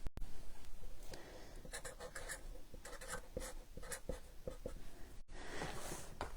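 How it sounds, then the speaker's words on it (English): A pen or pencil writes measurements on grid paper in a string of close, scratchy strokes and taps in an irregular rhythm, with a brief pause near the end before the writing resumes. "Let's write that down."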